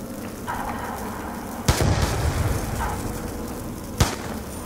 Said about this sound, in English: throwing your grenades in lava, that'll work.